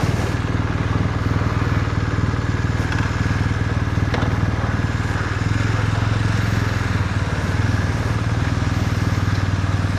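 A BMW R1250R motorcycle, fresh from a big service with new tyres, rumbles steadily while riding on the road, its engine loud and close throughout with wind noise and no talk.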